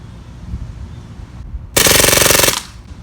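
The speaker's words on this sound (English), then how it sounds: "I'm gonna pull the trigger one time and just let it empty the magazine." A Beretta M9A3 CO2 BB pistol with blowback emptying its magazine on full auto, a loud, close, rapid rattling burst of shots lasting under a second after quieter background noise.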